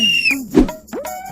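A whistle in a Telugu comedy spoof, heard as a few short tones that glide and bend up and down over about a second, with a louder burst in the middle and no talking.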